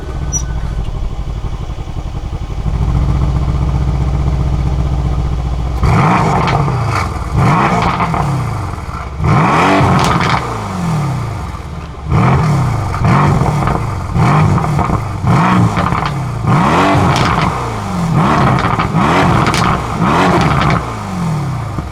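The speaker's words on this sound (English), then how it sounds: "And this is a warm start." A Mercedes AMG C63s engine on a warm start: a deep steady idle first, then repeated sharp revs that rise and fall one after another, loud and close, with no talking.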